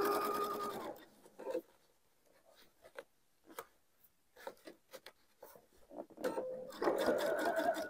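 A sewing machine stitching a seam on a vest, humming steadily at the start and end with quieter ticking and small fabric handling sounds between the runs, close and faint, with no talking.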